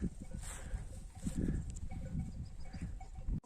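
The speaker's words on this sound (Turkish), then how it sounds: "Koyunlarımız orada." Sheep calling out on an open mountain pasture near a village, a few bleats rising over a low rumble of wind and background noise.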